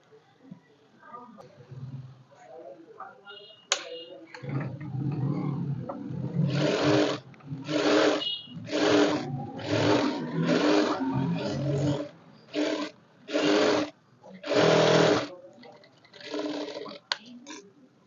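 A sewing machine stitches the lining of a blouse in several short, loud, whirring bursts separated by brief pauses, with a person talking quietly near the start.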